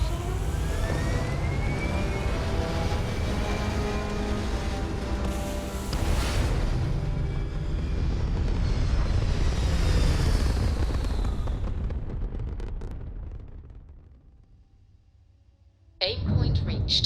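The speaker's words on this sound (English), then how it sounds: "We have liftoff." A spaceship lifts off in the game Starfield with a loud, sustained engine roar that swells and rumbles for several seconds, then fades away and cuts to a brief bright burst, with synthetic voices speaking over it.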